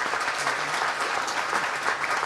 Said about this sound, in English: Let's just give Dave a big round of applause